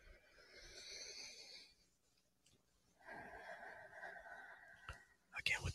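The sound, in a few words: heavy breathing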